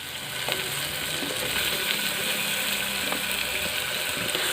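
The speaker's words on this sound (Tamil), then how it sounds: "இப்போ தக்காளி வந்து நல்லா மசிகிற அளவுக்கு வேகட்டும்" Tomatoes sauté in a pan for aloo tahiri, a continuous close frying hiss with occasional soft stirring knocks and no talking.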